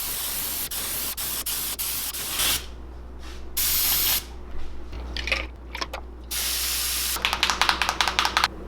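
An airbrush sprays paint onto a crankbait lure in several hissing bursts of varying length, close up, with rapid short spritzes near the end.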